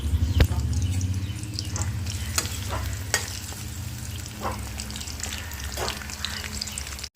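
Onions dropped into well-heated oil sizzle steadily while a utensil stirs them, with a few sharp clinks and scrapes over a low background hum, close and continuous.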